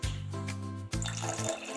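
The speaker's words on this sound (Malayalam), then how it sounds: "അതിലേക്ക് നമ്മുടെ പുളി വെള്ളം ഒഴിച്ചു കൊടുക്കുക" Tamarind water is poured into a Kerala mackerel chilli curry, making a close, steady liquid stream with a rising pitch, briefly broken and then resumed, with no voices.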